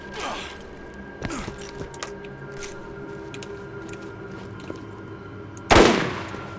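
Machine pistol gunfire in the Zombie Island video game: scattered sharp shots over a low steady background, ending in one loud close burst near the end.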